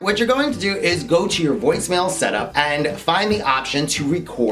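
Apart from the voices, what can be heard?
No everyday noises stand out.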